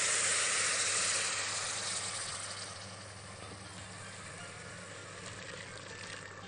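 Boiled tomato sauce for rosé pasta sizzles as it is ladled into a hot pan, a steady close hiss that is loudest at first and then eases slightly, with no voices.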